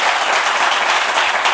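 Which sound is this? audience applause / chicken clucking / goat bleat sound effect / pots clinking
audience applause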